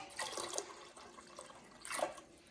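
Water is poured from a cup into a cooking pot of Mexican sopa de fideo soup. Two brief, quiet splashing pours are separated by a pause, with nothing else audible.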